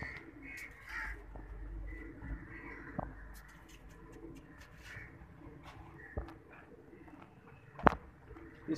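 Soft pigeon cooing from a rooftop and scattered bird calls over low outdoor background noise, with faint rustles and a sharp click near the end.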